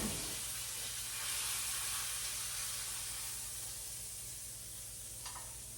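Boston butt pork searing in a hot pan, a loud, even, close hiss of sizzling fat that holds steady throughout, no voices.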